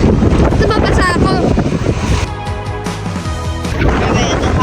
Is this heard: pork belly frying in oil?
no